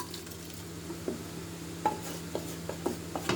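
Vegetables with mint leaves for veg biryani being scooped and tipped into a pressure cooker, with scraping spoon strokes, a few metal clinks and a soft sizzle running steadily underneath, close by with no voices.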